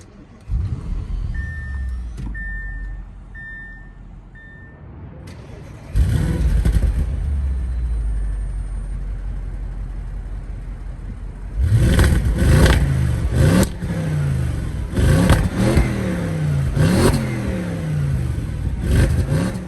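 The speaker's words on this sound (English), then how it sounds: "Let's go ahead and start up the RS7." A 2014 Audi RS7 with a twin-turbo V8 starts up with a few chimes and a loud crank catch, settles into a steady idle, then blips through a series of sharp revs close by.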